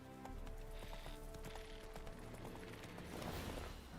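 A horse gallops in The Witcher 3, hooves clopping in a quick steady rhythm, close and fairly loud, over a dense game ambience.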